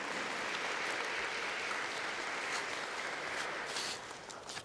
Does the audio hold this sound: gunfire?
no